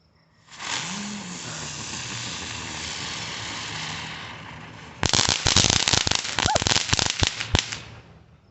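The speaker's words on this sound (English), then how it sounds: "Look at how many fireworks we lit up." A long hissing whoosh of fireworks launching outdoors is followed by a dense, loud rapid-fire barrage of crackling bangs and pops lasting a few seconds, then fading out.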